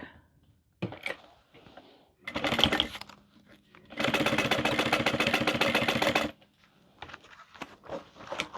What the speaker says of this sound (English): And same thing, stitching from mark to mark.